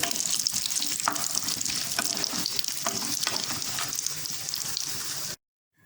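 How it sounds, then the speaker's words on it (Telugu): Cashews, almonds and raisins fry in a pan for a semiya payasam, giving a steady close sizzle with faint stirring clicks throughout, stopping abruptly just before the end. "జీడిపప్పు, బాదం వేగుతుంది కదండి, ఇప్పుడు కిస్మిస్ వేయించేసుకుని ఒక ప్లేట్లోకి తీసుకోవాలి."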